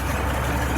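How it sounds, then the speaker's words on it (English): A farm tractor pulling a planter through a field, its engine droning in a steady low rumble, close and continuous, with no voices. "Sorry, I'm riding the planter."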